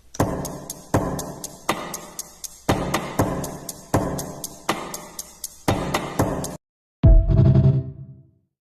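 A steady electronic drum loop built from video game sounds, punchy kicks and crisp hits repeating in a driving rhythm, followed by a brief pause and one big reverberant boom.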